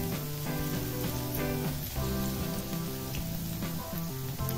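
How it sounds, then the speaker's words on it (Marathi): Garlic sizzles in hot oil in a kadhai on a gas stove, a loud, steady frying crackle that runs continuously alongside background music. "त्यामध्ये आता लसूण टाकून घेणार आहे मी"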